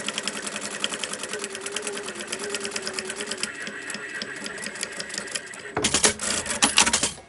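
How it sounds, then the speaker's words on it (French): A sewing machine runs a safety seam on a quilted backpack strap with a fast, even stitching rhythm up close, then a louder, harsher burst of stitching near the end. "je viens tout simplement faire une petite couture de sécurité pour maintenir le tout"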